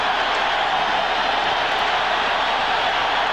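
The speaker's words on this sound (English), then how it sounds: "Crowd gets noisy at the outset on first down" Football stadium crowd at a 1989 Eagles at New Orleans game, a steady, dense roar of many voices rising into noisy cheering, broad and continuous throughout with no distinct individual words.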